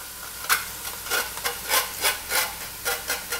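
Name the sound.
barley dumped into pan of browning beef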